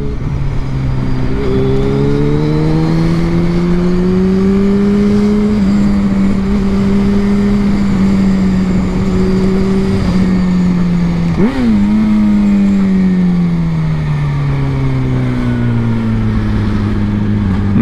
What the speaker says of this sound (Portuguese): Eu sempre tive vontade de pilotar essa moto.